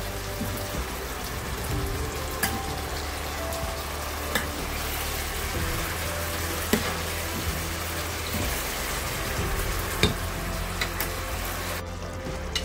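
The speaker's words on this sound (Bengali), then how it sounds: "এখন আমি যে আরেকটা চুলা চিকেনগুলো রেখেছি সেগুলো সসের মধ্যে দিয়ে দিচ্ছি।" Chicken pieces going into a simmering tomato purée sauce for butter chicken, heard as a steady close sizzle and bubbling with scattered soft clicks and scrapes throughout, without any voices.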